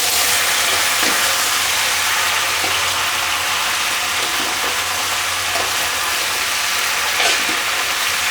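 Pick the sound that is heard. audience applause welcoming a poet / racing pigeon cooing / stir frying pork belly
stir frying pork belly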